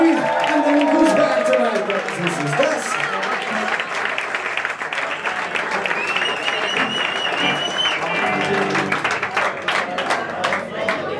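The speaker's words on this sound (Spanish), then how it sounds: "un aplauso muy grande" Concert audience in Madrid applauding loudly and steadily, with scattered cheers and voices mixed into the dense clapping throughout.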